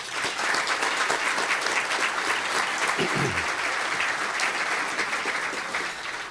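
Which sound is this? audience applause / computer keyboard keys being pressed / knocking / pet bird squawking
audience applause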